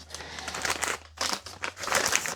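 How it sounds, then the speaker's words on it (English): A plastic piping bag crinkles and rustles in quick irregular handfuls, close to the ear, with a brief pause in the middle and a faint low hum underneath. "piping bag."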